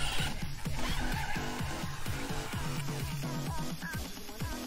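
An Arrma Mojave EXB RC car driven at 85% throttle, its electric motor whining through rapidly rising and falling pitch sweeps with tire scrub, loud and continuous at close range.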